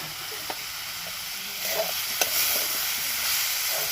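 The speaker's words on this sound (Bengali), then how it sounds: "গোটা জিরে দিয়ে একটু ভাজতে হবে" Whole cumin seeds frying in hot oil in a home kitchen pan, a steady close sizzle with a brief stir and a sharp tap partway through, no voices.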